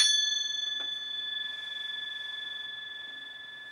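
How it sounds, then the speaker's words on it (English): A single gong strike, sounded to center oneself before an astrology reading, rings out clearly and then sustains as a long shimmering tone that slowly fades, with nothing else heard. "So I want to do my gong and to center myself and start reading."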